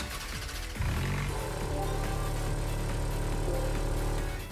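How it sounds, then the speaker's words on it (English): A Ferrari supercar engine in Gran Turismo 5 starting up with a sharp rev, then settling into a loud, steady, throaty idle close up. "Listen to that engine."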